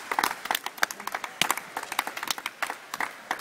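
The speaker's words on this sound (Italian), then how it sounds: "Fermo un applauso." Scattered clapping from a small group at a graduation party, uneven hand claps spread through the moment with a few sharper nearby claps standing out.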